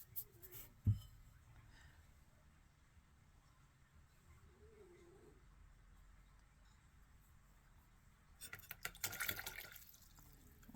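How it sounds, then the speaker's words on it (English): Paint brush swished and rinsed in a water cup while underglazing ceramic cups, a brief light splash near the start and a louder burst of sloshing toward the end, otherwise faint and quiet. "Rinse my brush off here a little bit."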